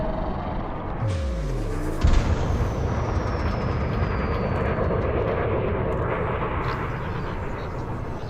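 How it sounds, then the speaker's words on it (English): Frame shift drive charging aboard a ship in a space flight game, a rising mechanical whine that swells under a steady low engine rumble, with a sharp thump about two seconds in and a thin descending tone afterward. "Frameshift drive charging."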